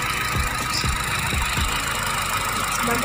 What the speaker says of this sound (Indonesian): suara mesin Honda Jazz RS Matic